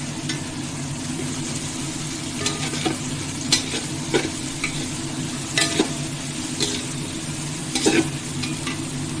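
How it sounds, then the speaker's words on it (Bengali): Paneer and vegetables for a vegetable pulao sizzle in a pan under a constant frying hiss, while a spatula scrapes and stirs in sharp, irregular strokes every second or two. "এবার এর মধ্যে দিয়ে দেবো আমি কেটে রাখা পনির পনিরগুলোও ভেজে নেবো"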